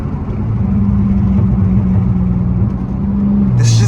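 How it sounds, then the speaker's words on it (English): Pontiac Grand Prix GT with a muffler delete, a loud, close, steady low exhaust drone that holds and then shifts pitch near the end as the revs change. "this just sounds crazy. All I did was get a muffler delete."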